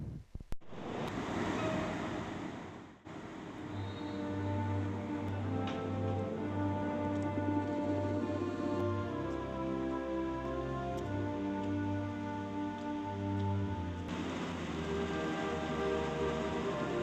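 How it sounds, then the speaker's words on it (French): A steam train coming into a station at Poznan in heavy rain, a steady rushing roar with a low rumbling hum and a long hiss of rain and steam, heard at moderate distance with no voices. "Le train à vapeur en provenance de Voltsin entre en gare sous une pluie battante."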